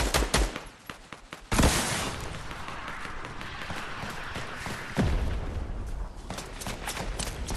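Dense gunfire from the video game Fortnite, with rapid automatic bursts and heavy shots rattling almost continuously, loud and close, with sharp louder hits near the start and again around the middle.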